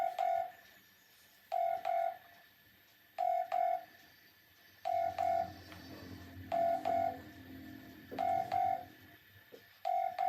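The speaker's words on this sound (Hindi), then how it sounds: "तो मैं अभी अपनी फ्रेंड को फ़ोन करने लगी हूँ" Telephone dialing tones sound as a call is placed to a friend: short paired beeps repeat at a steady rhythm, clear and close, with a faint low rumble under the middle of the sequence and no talking.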